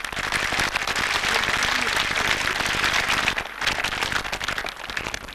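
A crowd at a comic poetry gathering breaks into loud, sustained applause, a thick continuous patter of many hands that dips briefly near the end and then carries on.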